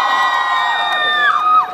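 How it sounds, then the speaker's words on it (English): A concert crowd at a Khiladi 786 music success show cheers and whoops for the troupe, a loud, close, sustained roar with high shouts rising toward the end. "Can we have a round of applause, ladies and gentlemen?"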